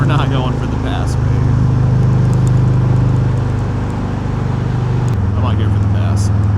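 Steady low drone of a 2022 Harley-Davidson Ultra Limited with a 114 engine cruising in sixth gear at about 70 mph and 3,000 rpm, loud and continuous with wind rush, under a rider's talk.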